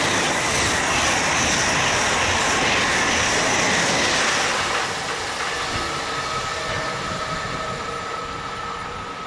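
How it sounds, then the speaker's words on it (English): A Thalys TGV high-speed train rushes past close by in falling rain, a loud broad roar that holds steady for about five seconds, then eases to a lower, fading rumble with a faint tonal whine. "With rain falling, we see Thalys TGV number 4304 heading north,"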